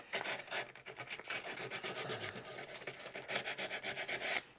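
A wood carving being sanded by hand with 120 grit sandpaper during a crack repair, giving steady close scratchy rubbing strokes in a continuous rhythmic rasp with no talking.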